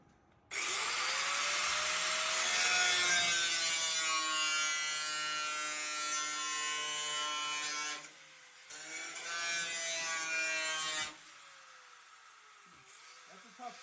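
Rusty sheet metal on a 1969 Oldsmobile Cutlass W-31 being cut with a power tool, a loud, steady, harsh grinding whine that holds for several seconds, pauses briefly, resumes, then stops. No one talks over it.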